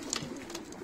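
Young pigeons in a Turkish loft cooing softly, a short, low, breathy murmur of coos heard close by, with no talking.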